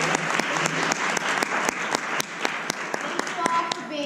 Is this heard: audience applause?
yes